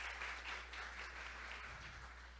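Applause from an audience at a tourism event, a short burst of faint, distant clapping over a low steady hum.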